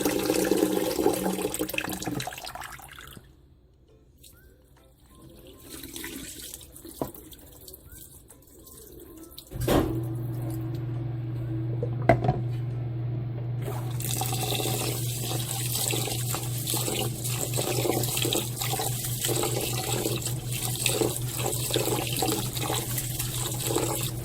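Sticky rice being rinsed for puto maya, water running and splashing in a basin in a home kitchen, with a quieter stretch before a steady tap stream takes over and continues close and constant.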